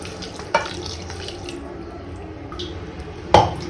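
Water poured into a pot of rice for Telangana bagara rice, a steady running trickle with two sharp clinks near the start and end, no talking.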